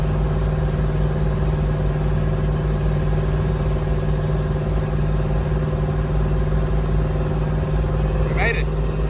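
A 1958 Plymouth barn-find car climbs a big hill with its engine held at a steady, droning hum heard from inside the cabin, with a brief squeak near the end.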